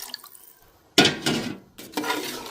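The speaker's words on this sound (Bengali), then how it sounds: "এখন এর মধ্যে দিয়ে দিচ্ছি পরিমাণ মতো পানি।" Cold water is poured into rice that was just fried for pulao, coming in two splashy, hissing bursts against the hot pot, close and fairly loud with quiet gaps between.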